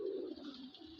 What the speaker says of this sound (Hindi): ये ऐसा कबूतर है भाई,